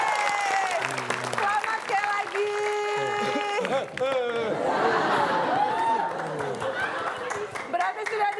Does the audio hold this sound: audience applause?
yes